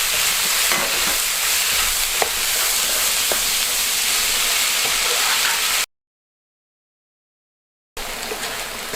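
Chopped vegetables cook in a pan over low heat with salt, pepper and stock powder, giving a steady, close sizzle and hiss with faint stirring clicks. The sound cuts out to silence for two seconds and then resumes.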